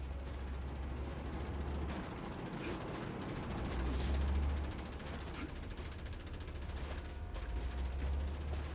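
Gunfire from Assassin's Creed Chronicles Russia rattles in fast bursts over a low rumbling game background, a fairly faint, dense volley of shots with one louder swell partway through.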